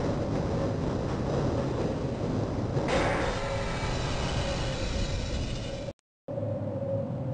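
Steady rumbling train ride aboard a rail car in the Half-Life video game, a continuous loud mechanical drone with a brighter swell partway through, cut briefly by a near-silent gap before the rumble resumes.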